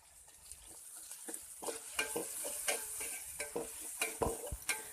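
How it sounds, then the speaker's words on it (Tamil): Onions and tomatoes sautéing in a pan for tiffin sambar, a soft steady sizzle broken by close, irregular scraping strokes of a stirring spoon. "இந்த டைம் நாம் கட் பண்ணி வச்சுருக்கிற தக்காளியை சேர்த்து தக்காளி நல்லா வதங்கி வர்ற வரைக்கும் வதக்கி எடுத்துக்கலாம்."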